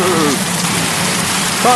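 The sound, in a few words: rain falling on trees and shelter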